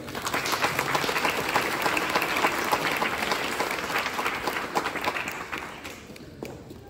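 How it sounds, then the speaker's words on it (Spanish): An audience at a graduation ceremony applauds in a dense, steady wash of clapping that holds for several seconds before thinning out near the end. "Otro aplauso para Elliot, por favor."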